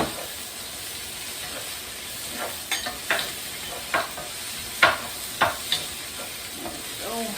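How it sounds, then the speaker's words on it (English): Frozen peas frying with rice in a pan, a soft steady sizzle broken by several sharp clinks and scrapes of stirring, fairly quiet and close, with no speech. "I'm also going to throw the peas in because they're frozen."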